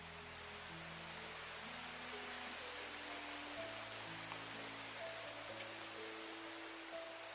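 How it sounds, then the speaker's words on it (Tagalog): Heavy rain pours steadily outdoors in a wet open spot with no tarp for shelter, a dense, constant wash of noise lasting throughout with a faint low hum underneath and no talk. "malakas po yung ulan ngayon mga tol"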